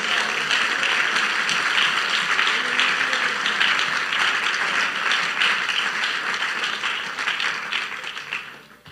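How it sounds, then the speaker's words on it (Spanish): A church congregation applauding during a sermon, loud sustained clapping from many hands that holds steady and then fades away at the end. "Dele ese aplauso al Señor Jesús."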